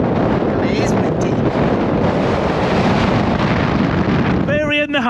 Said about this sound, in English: today, it's pretty windy here